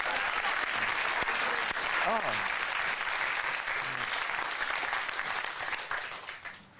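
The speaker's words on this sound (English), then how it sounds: "that's a round of applause" A game show studio audience applauding loudly and steadily, with a brief exclamation heard over the clapping before it fades at the end.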